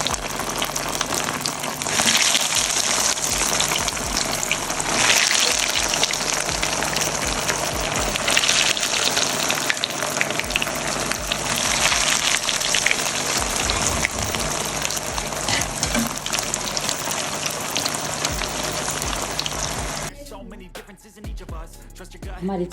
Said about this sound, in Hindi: आंच हम हल्की करेंगे और इसे 1 बाय 1 करके इसे डीप फ्राई करेंगे।